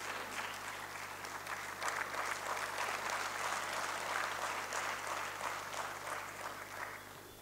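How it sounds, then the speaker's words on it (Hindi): A seated audience claps steadily for a standing guest at a Sir Syed Day association gathering, with dense, even applause filling the whole stretch and tapering slightly at the end. "سہیل بھائی، मुझे लगता है आप थोड़ा खड़े हो जाएं और तब आपके लिए तालियां बजाई जाएं"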